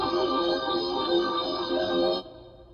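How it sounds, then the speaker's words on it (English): A Rhodes electric piano phrase from a Square One phrase kit, sustained mellow chords with a soft shimmer, steady and close, cutting off abruptly near the end. "So I first started off with this Rhodes phrase from a Square One phrase kit"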